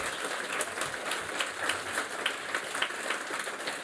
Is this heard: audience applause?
yes